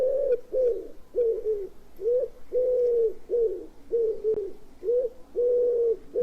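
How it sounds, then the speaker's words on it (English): Wood pigeon cooing in a steady repeated phrase, about a dozen soft, low hooting notes in rhythmic groups, fairly close and clear over a quiet background. "He's saying the word wood pigeon, so he's saying his name, and then he's reiterating that he's a pigeon afterwards."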